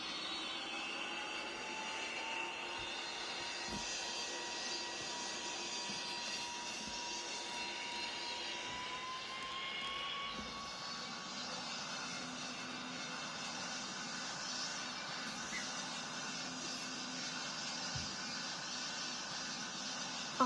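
A Lufthansa 747 taking off in a Roblox flight sim: a steady jet engine roar with a slowly rising whine that shifts upward partway through, fairly faint and continuous with no talking.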